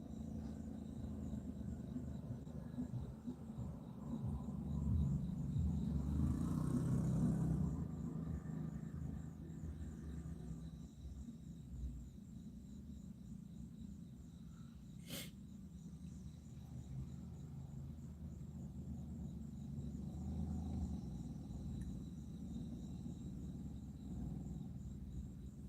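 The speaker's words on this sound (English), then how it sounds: "That van sounds about like a helicopter." A van engine runs with a steady, rumbling drone, like a helicopter, under faint high insect chirps and a brief sharp click midway.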